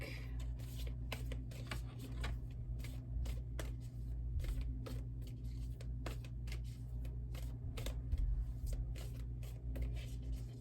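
A deck of tarot cards is shuffled close by, a continuous run of quick riffling flicks and soft slaps, with a few louder snaps as cards are drawn, over a low steady background hum.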